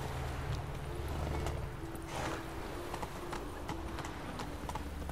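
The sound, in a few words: horse galloping hooves in The Witcher 3 video game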